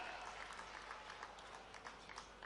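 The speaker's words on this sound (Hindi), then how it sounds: "जोरदार ताली बजाइए।" Crowd applauding at a farmers' rally in Harda, a faint spread of distant clapping with a steady low hum beneath.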